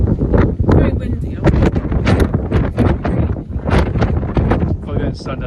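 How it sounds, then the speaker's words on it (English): Strong outdoor wind buffets the microphone with loud, continuous rumbling and roaring gusts under a person talking. "It's very windy."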